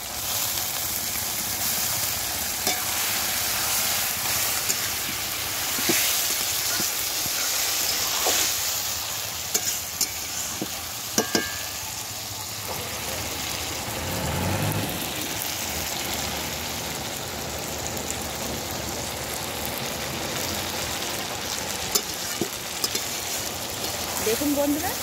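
Spiced water from rinsing a plate poured into a hot pan of frying food, giving a steady sizzle with stirring scrapes and occasional clinks, with a person talking over it.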